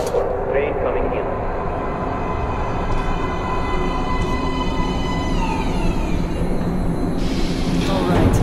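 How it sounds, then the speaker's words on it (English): A metro train pulls into an underground platform in the video game Metro Last Light, its loud rumble and rising screech of wheels and brakes running continuously, with squealing tones near the end. "Please step away from the edge of the platform. Train coming in."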